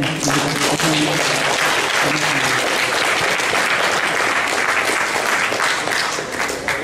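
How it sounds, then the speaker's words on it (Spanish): Sustained applause from a large audience for a doctor's conference talk fills the room, steady and loud throughout, with a few faint voices underneath. "Aplauso al doctor por su ponencia"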